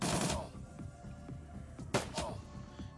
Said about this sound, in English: I'm just gonna fill this guy with bullets